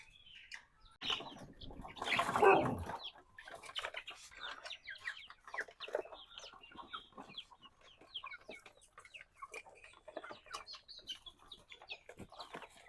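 Hens cluck and murmur in a low, scattered chatter close by, with a brief burst of wing flapping or scuffling early on, then steady quiet clucking.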